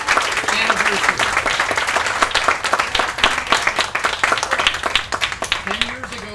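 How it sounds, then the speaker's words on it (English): A congregation applauds at an Erev Shabbat service marking a synagogue's 10th anniversary, with dense, steady hand-clapping from many people, some voices and a few sung or called-out tones mixed into the sustained clapping. "Let's give ourselves a big round of applause for our 10th anniversary."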